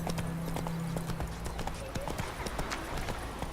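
Horse hooves clip-clopping at a steady walking rhythm in The Witcher video game, close and continuous, with a voice speaking briefly over the steps.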